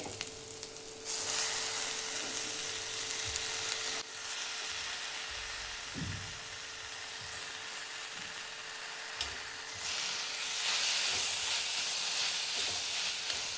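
Tomatoes and onions fry in hot oil for a spicy green chilli thecha, a continuous close hiss and sizzle with a few soft knocks, and no talking.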